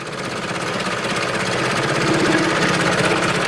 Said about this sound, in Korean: 먼저 기계톱을 이용해서 조각을 도려내는 작업을 시작한다